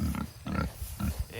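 Berkshire hogs on a hot Arkansas ridge farm grunting in short, close, rhythmic bursts, about four grunts in quick succession with no talk.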